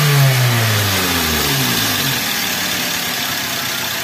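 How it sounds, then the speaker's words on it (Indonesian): A Toyota Avanza / Daihatsu Xenia engine with a hunting, underpowered fault, revving high and then falling back as the pitch slides down, ending in a steady, loud, close drone. "Tapi kalau kita lihat RPM tingginya biasa yo."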